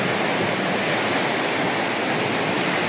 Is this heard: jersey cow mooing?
no